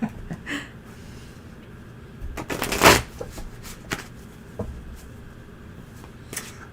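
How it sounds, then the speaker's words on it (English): A deck of tarot cards being shuffled by hand at close range, with soft riffling bursts, one louder flurry near the middle and scattered light taps and slides. "I am just no good at shuffling cards anymore."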